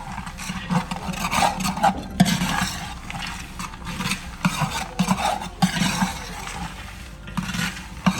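Sheer khurma with charoli nuts is stirred and mixed in a pot, giving uneven scraping and rubbing strokes with soft clinks at a moderate, irregular pace.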